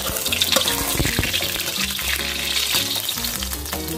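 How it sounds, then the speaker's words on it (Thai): An egg fries in hot oil for a Thai sour curry dish, a loud continuous crackling sizzle with some clattering and stirring throughout, and no one speaks. "เดี๋ยวพี่ปูก็ทอดอีกฝั่งนึงให้กรอบ"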